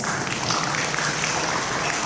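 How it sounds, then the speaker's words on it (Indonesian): An audience at a talk on gratuities applauds for ITS with dense, even clapping that fills the room briefly and steadily. "boleh tepuk tangan untuk ITS"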